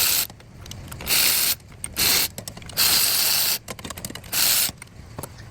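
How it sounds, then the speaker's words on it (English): A ratchet backing out the 12mm throttle body bolts on a 10th-gen Honda Civic, loud close clicking bursts alternating with brief pauses, with metallic ratcheting bursts of about half a second each. "Here's the tool that I'll be using to remove those bolts."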